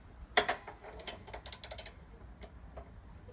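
Quick ratcheting clicks from a wrench working the top nut and bolt on a Craftsman/McLane reel mower, a sharp first burst followed by a run of short close clicks and a few scattered later ticks.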